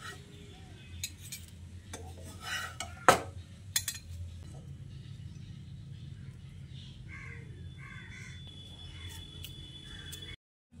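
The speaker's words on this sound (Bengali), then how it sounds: "এবার আমি একটা প্লেটে তুলে নিচ্ছি।" Crispy fried Malabar spinach fritters are lifted onto a plate with a few sharp utensil clinks and scrapes early on, then quieter kitchen background with birds calling outside.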